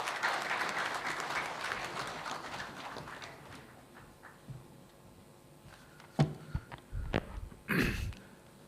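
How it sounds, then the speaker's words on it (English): An audience at a startup festival applauds as a speaker is welcomed to the stage. The clapping is moderate and fades out, followed by a few scattered thumps and coughs in a quiet hall. "Just with a round of applause, please."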